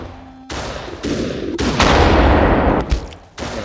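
Loud gunfire in the video game Superhot, a series of sharp blasts with sustained booming noise between them, dense and close with no talk.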